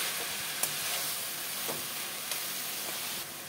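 Boiled banana flower stirred into frying spice paste of cumin and turmeric in a pan, a steady close sizzle with a few soft scrapes of the spoon, no talking.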